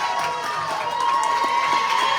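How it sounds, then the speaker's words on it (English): A big, loud crowd of fans cheering at a youth squirt hockey semifinal in Kirkwood Ice Arena, with steady roaring, shouts and a sustained high whistle-like tone running through the crowd noise, continuous throughout. "big cheering section for the semifinals here this morning"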